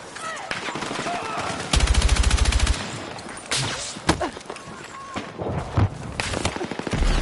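Rapid bursts of automatic gunfire in a Battlefield 6 match, a sustained volley of loud shots followed by scattered single and clustered cracks, near and punchy, with a voice speaking over parts of it.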